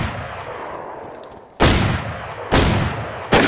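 Shotgun blasts in the DayZ video game ring out as three sharp, loud booms spaced about a second apart, each trailing off in a fading echo over a quieter background.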